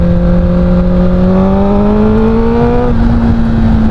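Honda CBR1000RR superbike engine revving loud and close, a steady rising whine that climbs in pitch and then holds, continuous with no voices.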